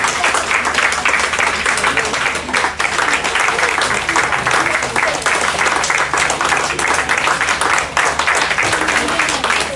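An outdoor audience applauds steadily for about ten seconds at a city market, car park and artificial-turf pitch opening, a dense, continuous wash of many hands clapping.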